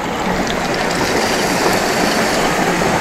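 River water rushes steadily beside a night campsite, a loud, continuous, close broadband roar with no pauses and no voices.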